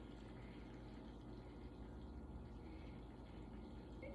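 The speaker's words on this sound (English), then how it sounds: "I'm going to do my 750 grams of water, and I just pour that right on top" Water is poured steadily onto flour in a bowl for a sourdough autolyse, a soft continuous trickling pour, faint and close.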